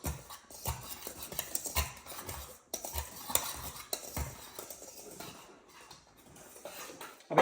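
Baking soda being mixed into dry chocolate cake ingredients in a bowl, with irregular scraping and clinking of a spoon against the bowl, close and fairly quiet.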